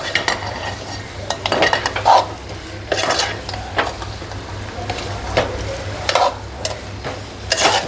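A spoon stirring and mixing dried bombil fish biryani with fried eggs in a pan, with steady scraping and clinks against the metal over a soft sizzle throughout.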